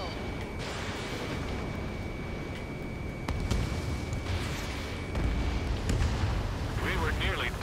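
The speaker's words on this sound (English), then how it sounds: "Target destroyed by Strider 1." Explosion of a destroyed target in the Ace Combat 7 flight combat video game, a broad rumbling boom layered over continuous jet and combat noise, with a second heavier burst near the end and radio chatter from the game underneath.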